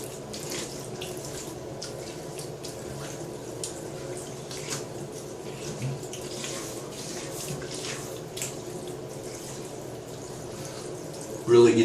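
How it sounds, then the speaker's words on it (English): Tap water runs steadily into a sink while someone rinses their face after shaving, with a continuous wash of flow and faint splashes throughout, ending in a brief louder splash. "So let me rinse my face real quick."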